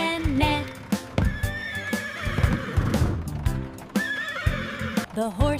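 A horse whinnies several times over rhythmic clip-clopping hooves, loud and close, with sung children's-rhyme vocals layered underneath.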